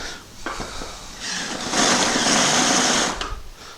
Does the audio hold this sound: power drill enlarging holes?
yes